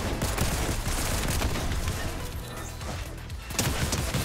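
A dense barrage of rapid explosive cracks and bangs from fireworks launched in Fortnite, continuous and loud throughout.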